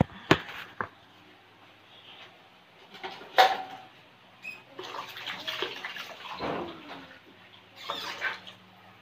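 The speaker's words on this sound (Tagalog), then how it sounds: "Lagyan natin siya ng konting tubig." Water poured from above into a pot of sautéed sayote and pork guisado, a few short splashing pours and trickles with clatters between them, close by and moderately loud.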